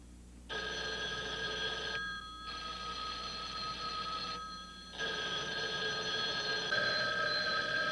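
An old-fashioned telephone bell rings in long, buzzing bursts separated by short pauses, steady and fairly clear, with no voices.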